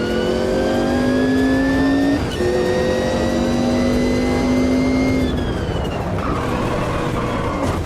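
Race car engine in Automobilista 2, loud and close, climbing in pitch through the gears with quick shift drops, then settling into a rougher tone near the end.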